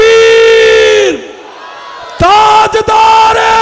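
A large religious gathering on the finality of prophethood roars back a slogan in unison: loud, harmonic massed shouting from a close crowd, a brief lull, then a second swell of many voices chanting together.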